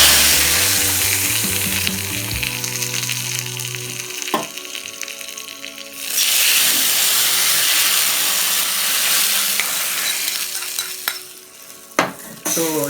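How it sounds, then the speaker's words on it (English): Mustard seeds crackle, splatter and sizzle loudly in hot oil as a tempering for pepper rasam, with a sustained hiss, a sharper surge partway through and a few brief clinks near the end. "that splattering sound of mustards"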